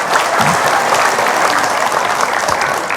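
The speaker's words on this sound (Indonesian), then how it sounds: "Ya udah deh kalau gitu tepuk tangan." A seated religious-talk audience claps together in a steady, loud round of applause that fills the whole stretch without any speech.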